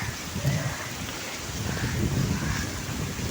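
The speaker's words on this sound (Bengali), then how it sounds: "দেখেন বৃষ্টি কিন্তু কমও হয় না" Heavy rain falls on a rainy morning as a continuous, dense hiss and patter, steady throughout with a low rumble underneath.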